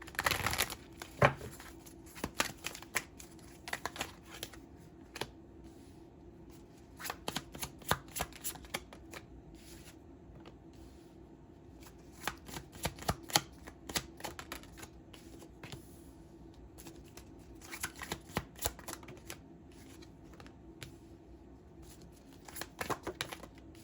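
Tarot cards being shuffled by hand in quiet bursts of rapid riffling and flicking, separated by pauses, close and faint.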